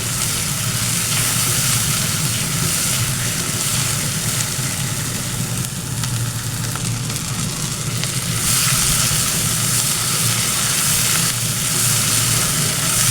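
Chopped tomatoes sizzle and fry steadily in a pan while being sautéed for Egyptian moussaka, a constant close crackling hiss with no voices over it.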